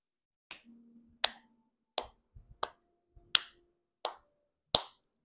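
Hands clapping in a quiet room: about eight sharp, separate claps spaced roughly a second apart, close and crisp against near silence.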